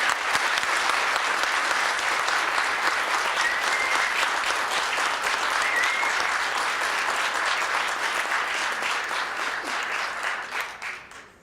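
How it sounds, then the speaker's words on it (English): Audience applause at a police department annual awards ceremony, sustained and fairly loud, a thick wash of many hands clapping that fades out at the end. "Let's give another round of applause for Maritza and Maritza"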